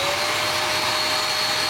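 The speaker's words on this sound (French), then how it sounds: "donc mon aspirateur d'atelier Parkside" A Parkside workshop vacuum cleaner runs steadily with a loud, even whooshing roar and a faint high whine, close and continuous without talk.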